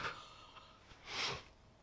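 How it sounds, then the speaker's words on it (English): A quiet breathy nasal sniff, a soft snort-like inhale swelling briefly near the end, close and faint with no talking. "Oh no, I've got the sniffles."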